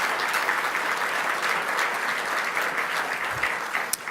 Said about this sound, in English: So if you'd give my team a round of applause, I would really appreciate that.